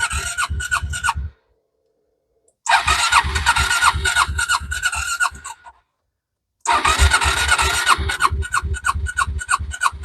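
A Yamaha Majesty 400 scooter engine starts up and revs in three bursts, each several seconds long, separated by brief silences, loud and close.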